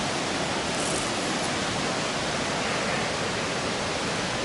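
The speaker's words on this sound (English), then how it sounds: "Hope you can hear me, because this river's well loud." A loud river rushes in a continuous, dense roar of broadband water noise that stays steady and close throughout, with no voices.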